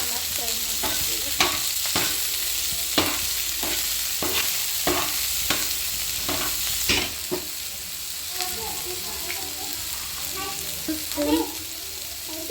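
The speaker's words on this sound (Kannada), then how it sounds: "ಚೆನ್ನಾಗಿ ಫ್ರೈ ಮಾಡ್ಕೊಳ್ತೀವಿ" Chopped onion and green chillies fry in a pan with a steady sizzle, punctuated by regular scraping clicks of a spoon stirring, close and fairly loud with no talking.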